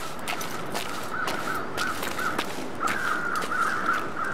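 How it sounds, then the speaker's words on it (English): Crows cawing in a video game, a series of harsh caws repeating in irregular bursts over faint ambient noise and soft footsteps. "I thought I'd heard crows"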